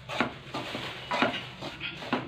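Grated coconut mixed with cardamom being fried and stirred in a pan for festival sweet preparation: repeated scraping, clinking spoon-on-pan strokes at an uneven rhythm, close and moderate, with no talking.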